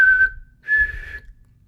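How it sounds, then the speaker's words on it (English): A person whistles two sustained single pitches with a short gap between them, clear and close with no talking, while practicing pitch against a tuner for Native American flute playing. "Now, can you imagine and whistle a pitch that's 2 above that?"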